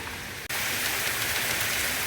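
Heavy rain falls hard by a roadside in cold weather, a dense broadband hiss that briefly dips and then returns louder and constant.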